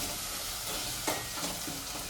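Onion gravy for dum biryani fries in hot oil, giving a steady close sizzle with occasional stirring scrapes and no talk.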